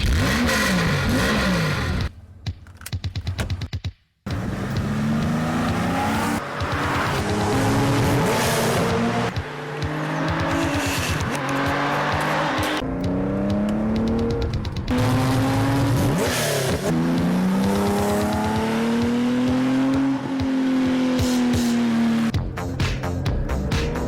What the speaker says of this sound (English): So that was James in his Porsche